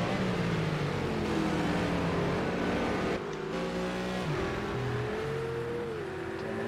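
Ferrari GT3 race car engine in Project Cars 2 on the Azure Circuit, a loud, sustained roar rising and falling in pitch through gear changes, with a brief dip mid-way and other cars' engines blending in, no talking.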